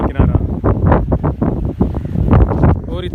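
Strong wind at a clean seashore near Gaggar village, Karachi, buffeting the microphone in loud, uneven low gusts that rumble and surge throughout, with the surf barely distinguishable beneath.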